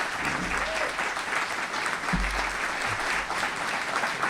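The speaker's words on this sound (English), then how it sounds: "Let's give our staff a round of applause" Applause for the staff at an internal medicine resident graduation, with a crowd clapping steadily and continuously in a fairly large room and a few faint voices underneath.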